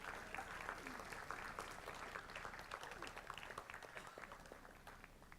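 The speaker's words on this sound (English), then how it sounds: "Let's give them a big round of applause." Audience at a board meeting gives a sustained round of applause, many hands clapping in a dense, even patter that carries on throughout, fairly quiet and slightly distant.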